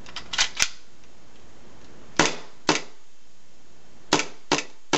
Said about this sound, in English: I'm just going to show you how the blowback feature works on this gun